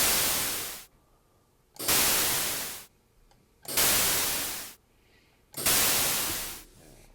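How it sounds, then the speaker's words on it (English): White noise from a noise~ generator object in a patching environment, played as four loud broadband bursts, each with a sharp attack and gradual decay, separated by near-silent gaps. "this is the noise tilde object, which generates white noise"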